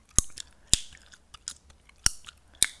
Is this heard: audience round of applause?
no